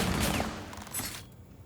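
A burst of rapid gunfire in Rainbow Six Siege, shots loud and close at first, a sharp crack near the middle, then cutting off into quiet.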